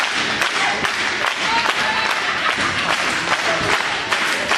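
Fans at a Twin City Wrestling show applaud and cheer, a dense, loud, continuous clatter of clapping with scattered thuds and taps from the ring, and a voice faintly under the noise.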